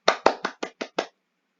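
A classroom gives a short round of applause: six crisp, evenly spaced claps, close and fairly loud, fading quickly into silence.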